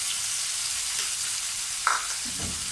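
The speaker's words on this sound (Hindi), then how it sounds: "1 मिनट तक हम इसको भूनेंगे" Ginger garlic paste and green chillies fry over a low flame in a pan for bhindi masala, giving a steady, soft sizzle with a brief stir or clink partway through and no talking.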